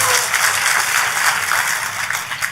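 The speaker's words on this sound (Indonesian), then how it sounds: "Tepuk tangan dong yang paling meriah buat Tuhan kita." Church congregation applauding during a sermon: dense, steady clapping from a large crowd that fills the whole short stretch at an even level, with no voices standing out.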